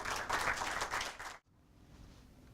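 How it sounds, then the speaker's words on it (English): An audience at a Fordham Law School presentation applauds the speakers with dense, loud clapping that cuts off abruptly about halfway through, leaving quiet room tone. "Please give them a round of applause"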